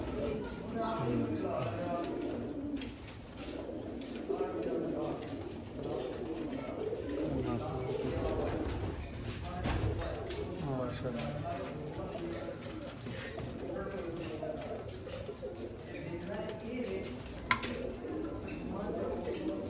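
Pigeons coo steadily and at close range among fancy show birds in a loft, a continuous layered murmur of calls with someone talking over them throughout.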